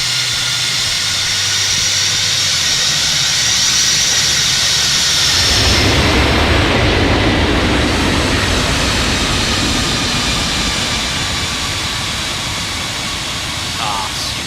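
Boeing 747-200 jet engines roaring during a landing in a flight simulator video game, a steady loud rumble and hiss that swells midway, with a person talking over it.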